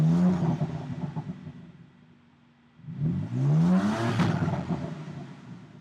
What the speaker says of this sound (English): Now we're gonna go ahead and fire up that car again.